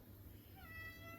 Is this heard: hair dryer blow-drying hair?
no